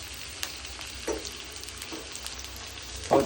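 Onions frying with salt in a pan for bachelor-style tomato rice, a steady close sizzle with soft scraping stirs, a louder stir near the end.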